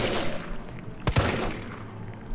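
A shotgun fires in Resident Evil 3 Remake, one sharp, loud blast cutting through a busy game soundscape, followed by a brief fading tail, with no talking.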